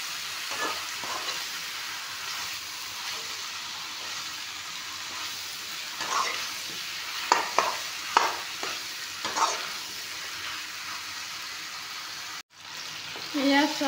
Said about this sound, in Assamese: এতিয়া ধুনীয়াকৈ মাংসখিনি ভাজি ল'ম